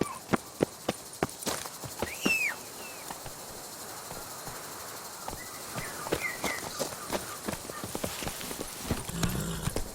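Horse hooves clip-clopping at a steady pace in The Witcher 3: Blood and Wine video game, a run of quick hoof strikes over a bed of crickets and insects, with occasional faint voices.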